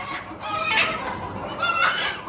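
Free-range village chickens cluck and squawk nearby on a poultry farm, two louder bursts of calls rising above a soft background hum.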